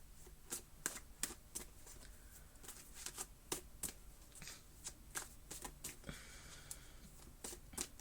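Oracle cards are shuffled by hand in a quiet room, producing a sequence of soft, crisp riffles and slaps in an irregular rhythm, close and faint.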